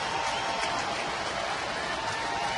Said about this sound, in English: The people who are standing and cheering.